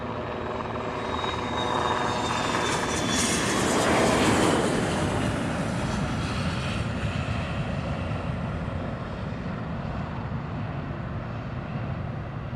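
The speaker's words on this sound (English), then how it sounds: "Got another private jet taking off." A private jet takes off from Long Beach Airport with a loud, steady jet roar that swells to a peak early on and then holds as a broad rumble, with no voices.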